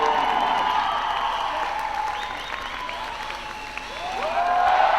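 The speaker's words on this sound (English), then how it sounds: "Crowd are really getting behind him now." Steady clapping from a crowd backing a climber at a bouldering competition, dense and sustained, with whistles and cheers rising over it and swelling louder at the end.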